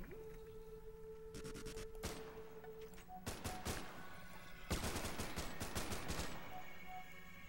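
Big guns firing in a modded Minecraft airport survival game, loud rapid bursts of gunfire in several volleys with short gaps, close and sharp over a steady hum.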